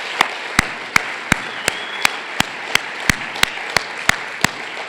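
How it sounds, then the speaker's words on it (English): At a school banquet, a crowd in a room applauds teachers with a broad wash of clapping, and one loud, evenly spaced clap stands out close by, repeating about three times a second. "Could you give them a great round of applause?"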